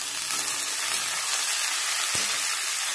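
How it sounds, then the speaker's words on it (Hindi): Chopped pui saag greens tipped into hot oil that has been browning, giving a loud, steady, close sizzle that carries through the whole stretch, with one brief clink partway. "अब मैं इसमें ये कटा वाला पुई साग को मैं डाल लेती हूँ"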